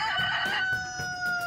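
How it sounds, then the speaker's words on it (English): A synthesized rooster crow sound effect played from the Sphero EDU app on a BOLT programmable robot, one long bright crow sustained clearly through the clip with no talk over it. "we get the rooster sound from the Sphero EDU app"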